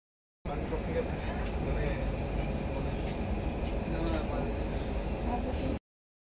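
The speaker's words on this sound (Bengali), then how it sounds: "আর একদম রাইট টাইমে ছেড়ে দিয়েছে ট্রেন" A Humsafar Express train departs on time in the dark before dawn, its steady rumble and rolling noise heard from inside, continuous and moderately loud, with a voice speaking over it.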